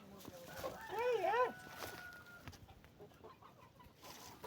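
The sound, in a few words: chickens clucking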